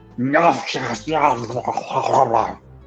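A human voice imitates a wet, sloppy eating sound, a creature hunched over a deer carcass in dim moonlight, with gurgling, growl-like vocal texture running nearly three seconds, close and loud.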